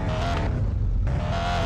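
Car engine from a drag race video game revs and drones loudly and steadily, dipping briefly in the middle before rising again, with no voices.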